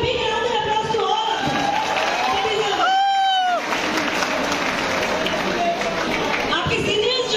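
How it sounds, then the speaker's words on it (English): Large audience at a freshers' event applauding and cheering, loud, dense continuous clapping with crowd noise throughout, voices mixed into the din. "Give a big round of applause to all."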